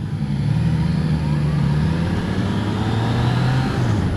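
Yamaha XSR900 motorcycle (2016) with a smooth-running engine, a steady close engine drone that holds a constant low pitch with slight shifts, with no voices.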